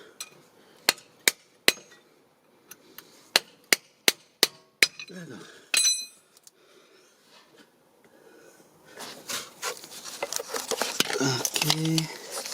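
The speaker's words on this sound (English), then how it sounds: "So this is how I remove this CV axle using this long chisel." A long chisel is hammered to free the CV axle on a 1996 Toyota Camry, giving a run of sharp, evenly spaced metallic strikes, followed by scraping and rattling as the part loosens.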